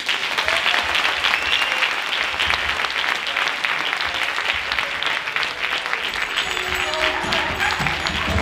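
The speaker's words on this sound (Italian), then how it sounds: "Un applauso fragoroso per Babbo Natale e la nostra stupenda" Loud, sustained applause from a large audience at a Christmas music, dance and theatre show, greeting Santa Claus and the Befana, with dense clapping continuing throughout.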